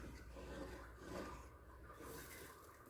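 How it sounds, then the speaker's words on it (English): Scraping food off a cast iron pan with a soft, continuous rasping scrape that rises and falls, faint and close, with no talk. "See, I'm able to actually scrape this up now."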